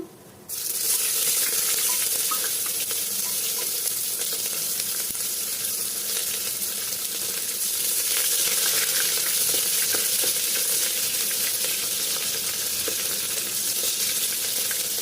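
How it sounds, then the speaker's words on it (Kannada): Mustard seeds and onion hit hot oil in a home kitchen pan, producing a loud, even sizzle that starts abruptly and holds steady throughout, with faint crackles and no voices. "ಸಾಸಿವೆ ಚೆನ್ನಾಗಿ ಕಟಕಟ ಆಗಲಿ ಅರ್ಧ ಚಮಚ ಹಾಕೊತಾ ಇದ್ದೀನಿ ಈರುಳ್ಳಿ ಹಾಕೊಂತ ಇದ್ದೀನಿ"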